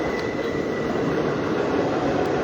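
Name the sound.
Hubli train passing by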